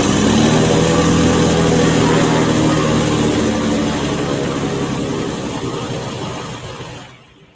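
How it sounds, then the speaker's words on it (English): Piper Saratoga single-engine propeller plane running at the start of an evening flight, a loud, steady droning engine roar close by that gradually fades and cuts off near the end. "It's almost 8:30 p.m. when John starts the Saratoga single engine"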